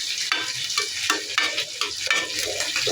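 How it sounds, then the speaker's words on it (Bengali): Curry with jackfruit seeds is stirred in a pan, with a constant hiss of frying and repeated scraping and clinking of a spoon against the metal, close and steady. "এবার নেড়ে চেড়ে মিশিয়ে আবার ঢাকা দিয়ে দেবো।"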